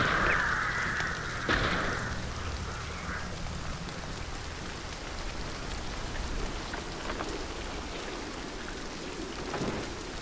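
Steady rain falls in the video game Hunt: Showdown, a close, continuous hiss of drops on surfaces, with a brief sharp crack near the start and a low rumble of thunder underneath.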